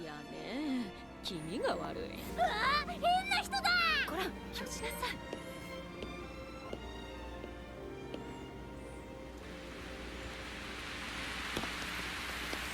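Steady rain hisses softly through a One Piece anime episode, rising in the later seconds, after stretches of animated voices and music.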